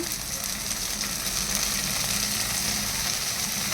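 Soy sauce hitting chilli potato in a hot pan, a steady loud sizzle and frying hiss that carries on without pause.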